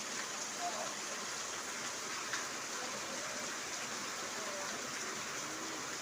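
Heavy rainfall in Jammu pours down continuously, a dense, loud, unbroken hiss of rain on surfaces filling the whole stretch with no pauses.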